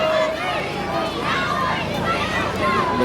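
Wrestling crowd at a Greatest Wrestling Alliance match chanting together in rhythmic unison during a pin count, a dense, steady roar of many voices with no single speaker standing out.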